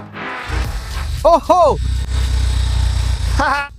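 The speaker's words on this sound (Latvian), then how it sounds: "Mēs likām sūkļa boba kvadrātbikša mašīnai darboties un braukt!" A recovered SpongeBob toy car's small motor starts and runs with a low, steady buzzing drone beneath excited talking, with short bursts of voices cutting in over the hum.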